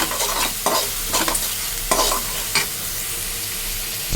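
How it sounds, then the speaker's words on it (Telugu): Green chilies and curry leaves frying in oil for a mutton curry: a loud, close sizzle broken by repeated scraping stirs of a spoon against the pan, with no talking. "ఒక రెండు మూడు నిమిషాలు అయితే వేయించుకోవాలి పచ్చిమిరపకాయలు పోయేంత వరకు"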